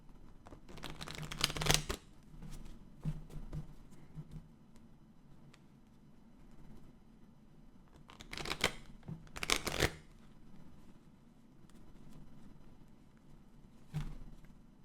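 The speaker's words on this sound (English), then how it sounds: "Cards are so wore out, and I hate to get new ones because I just got them where they're soft enough where I can shuffle them." Someone shuffles a worn, soft deck of playing cards up close, with several bursts of riffling and quieter handling and tapping between them.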